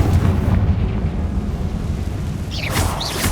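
A Confringo spell blasts in the Hogwarts Legacy video game, a loud sustained rumbling explosion with a whooshing burst toward the end, with no talking.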